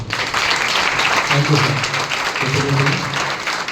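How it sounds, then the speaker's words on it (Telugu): An audience at a devotional music gathering bursts into steady, dense clapping that carries on through the whole stretch, loud and close, with a few voices mixed in underneath. "ముందుగా ఆయనకి కృతజ్ఞతలతో మనం చప్పట్లు పడతాం."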